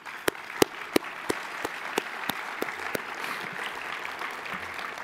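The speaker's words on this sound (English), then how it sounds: "please do join me in a round of applause for all of them" Audience applause at an entrepreneurs' awards celebration, opening with a string of sharp, evenly spaced individual claps that give way to a steady, moderately loud wash of clapping from the crowd.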